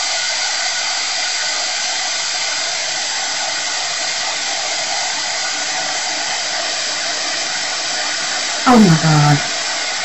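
An electric heat tool melts embossing powder for a resin box, giving a continuous, loud whooshing blower hiss that holds steady throughout. Near the end a voice briefly exclaims over it.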